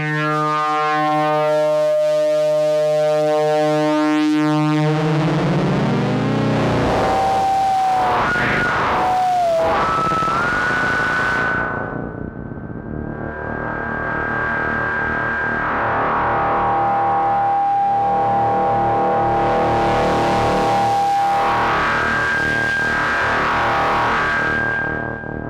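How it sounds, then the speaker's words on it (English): An Instruō Saïch synth module through a wavefolder sweeps from harsh, dissonant distortion with dense buzzing harmonics into a steady tone with a stable fundamental, gliding pitches and shifting timbre along the way, loud and continuous with no voices. "It goes from complete dissonant distortion to settling on something with a stable fundamental."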